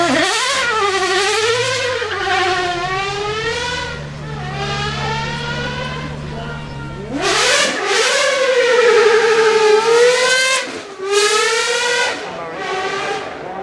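A high-revving Cosworth 4-liter V12 engine in a GMA T50, revving to 12,100 RPM, screams up and down through its range in long rising and falling sweeps, loud and close, with a brief dip before surging again.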